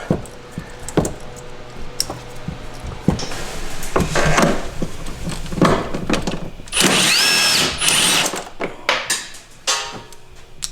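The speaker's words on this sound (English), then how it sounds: "Getting to this one with the impact is a little difficult because that clamp is turned down all the way on the bottom." An impact wrench works on a charge tube clamp in the tight engine bay of a RZR Turbo, firing in several loud rattling bursts between metallic clanks and taps of tools.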